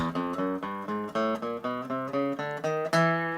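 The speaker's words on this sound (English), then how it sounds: "there is actually a chromatic scale, which is just 12 notes all in a row" A quick chromatic scale of twelve distinct notes played one after another in an even, steady rhythm, each note sounding clearly with no talking.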